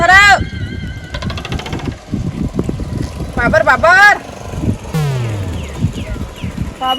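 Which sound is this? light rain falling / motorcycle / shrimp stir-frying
motorcycle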